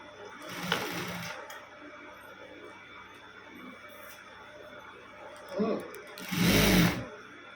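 A sewing machine stitches cloth in short runs, its motor whirring in brief bursts near the start and a longer loud burst near the end, while someone talks quietly in between.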